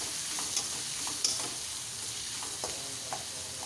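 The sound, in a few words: onions frying in oil with salt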